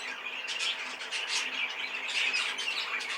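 A bird squawks and chirps repeatedly from inside a garden shed, a steady, dense stream of harsh calls heard close and alone.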